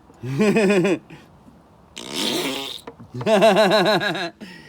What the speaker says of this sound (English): The fart bag has to be squeezed.